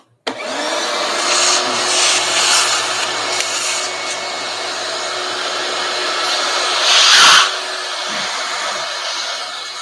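A vacuum cleaner runs loud and close in a steady whooshing drone, its pitch rising and falling slightly as it moves, with a brief harsher surge near the end.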